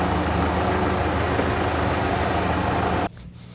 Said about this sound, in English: Let me move the tractor.